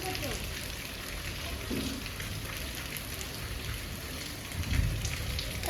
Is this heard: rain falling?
yes